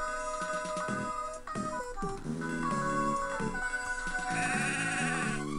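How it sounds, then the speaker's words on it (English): Sheep bleat in the Mother 3 video game, with repeated electronic bleats over a steady, bright chiptune-style melody that plays continuously throughout. "The sheep are milling about restlessly."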